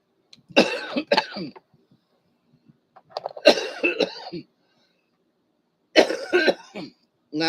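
Three separate bursts of harsh coughing, each a rapid cluster of hacks, close and fairly loud, with quiet pauses between fits.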